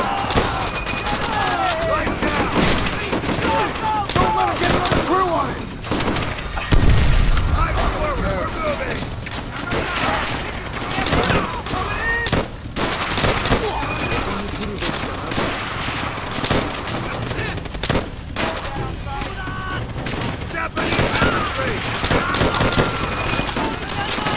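Call of Duty: World at War combat, with dense rifle and machine-gun fire crackling almost nonstop, bursts overlapping and a heavier boom near the middle, loud and close, with voices shouting over the battle.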